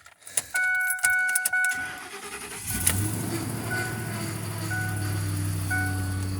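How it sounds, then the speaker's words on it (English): A 2008 Ford F-150 pickup with over 200,000 miles, idle for two weeks, starts up: a few chimes and clicks, a brief cranking whir, then the engine catches and settles into a steady, rumbling idle nearby. "we're just gonna go ahead and fire up just to show you guys what 200 and some odd thousand miles on this truck actually does sound like"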